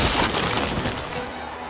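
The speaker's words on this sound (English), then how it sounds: "How fast can you smash that ice?" Ice being smashed in the video game Ice Age Continental Drift, a short loud crunching shatter that tails off quickly.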